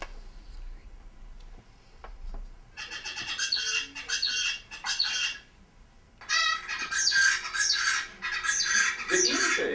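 Zebra finch pupils imitate an isolate's song in two long bouts of rapid, buzzy, stacked syllables, close and moderately loud, over faint background noise.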